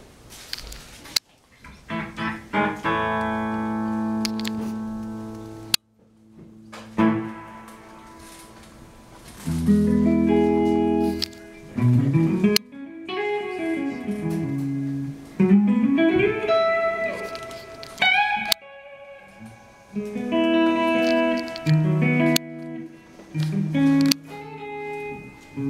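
An electric guitar plays through an amp on a clean tone, no reverb, picking out sustained chords and single-note runs with pauses between phrases, close and fairly loud, with no talking.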